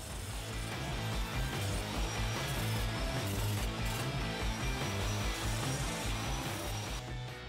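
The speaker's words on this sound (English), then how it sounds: "cut out the shape using the jigsaw table" Jigsaw table cutting a shape from wood, a steady buzzing saw with a rapid reciprocating rhythm and rasping blade noise, close and continuous until it stops near the end.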